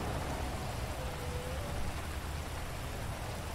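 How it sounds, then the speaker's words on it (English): Constant dense rain in the video game GTA V's LSPDFR police mod hisses evenly throughout, a broad steady wash of noise with no voices, fairly close and unbroken. "It is pissing down rain out here"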